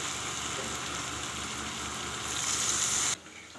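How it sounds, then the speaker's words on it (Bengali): Broth poured into a pan of boiled vegetables for a radish and fish curry gives a loud, steady sizzle and bubbling hiss that swells briefly near the end, then cuts off sharply and drops to a quieter simmer. "সবজিগুলো সিদ্ধ হয়ে গেছে, এখন ঝোল দিয়ে দেবো।"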